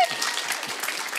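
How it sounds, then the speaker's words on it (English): An audience claps at a live stage show event, a dense burst of applause from a crowd that stays steady and fairly loud throughout. "Georgia and Brent, give them a round of applause."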